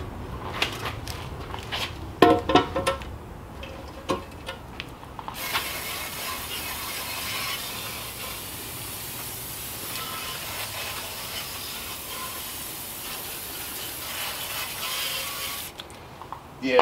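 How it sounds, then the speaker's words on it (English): Aerosol cleaner sprayed onto a BMW N54 oil pan, heard as a long continuous hiss of about ten seconds, close and fairly loud, after some shorter spurts and clattering handling sounds. "before I put it on, I'm going to give it one last spray down."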